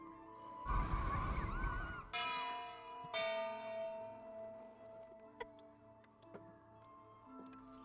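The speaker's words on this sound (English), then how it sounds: "I think I can get somebody with the bell." Bell in the game Sintopia rings out in several resonant strikes, a loud burst followed by long ringing tones that decay slowly, with lighter chimes and ticks over a soft musical background.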